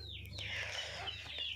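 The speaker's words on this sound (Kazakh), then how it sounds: "Жалпы Кучинский юбилейный балапандары" Kuchinsky Jubilee chicken chicks cluck and cheep softly in a farm coop, a quiet, brief run of chirping calls over a low steady hum.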